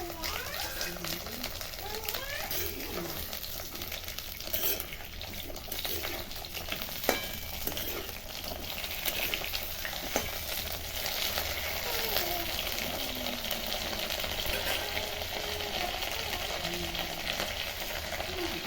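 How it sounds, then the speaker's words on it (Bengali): Halved pointed gourds (potol) fry in hot oil, giving a continuous soft sizzle with scattered crackles and occasional stirring scrapes, while a person talks over the cooking. "তেলটা গরম হয়ে গেছে, এখানে পটলগুলো নিয়ে আছে, পটলগুলো নিয়ে দিয়ে দেবো এটার মধ্যে, তেলের মধ্যে।"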